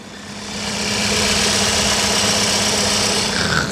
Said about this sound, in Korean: 이 G70의 심장인 엔진 소리를 들려서 보는 소리였는데요 바로 한번 들려드리겠습니다